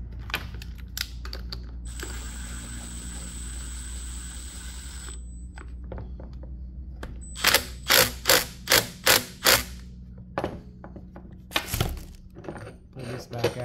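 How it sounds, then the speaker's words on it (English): A ratchet with a large 14mm Allen socket tightens a fork on a Yamaha TTR 125 dirt bike. A run of six sharp, regular clicks comes up close amid quieter workshop handling noises and a few scattered taps. "Use my big 14mm Allen socket there. Then we can tighten up this."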